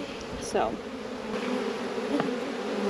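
Honeybees from a farm swarm buzz steadily around their hive, a close, constant drone with individual bees whizzing past, and a voice briefly speaks.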